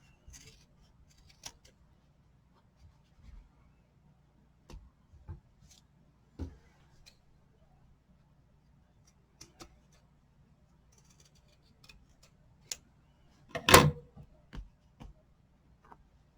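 Scissors trimming loose threads on a hat, sparse small snips and clicks close by in a quiet room, with one louder snip near the end.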